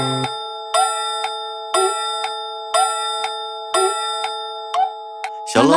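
A bright, bell-like clock chime in a cartoon children's song strikes the hour in six evenly spaced ringing tones, each note decaying with a long tonal tail.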